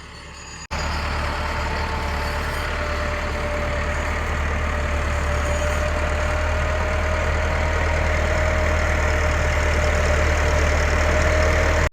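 A tractor engine runs while ploughing a field, starting abruptly and then holding a loud, steady, close-up drone with a low rumble and a faint whine, unchanged for the whole stretch, with no voices.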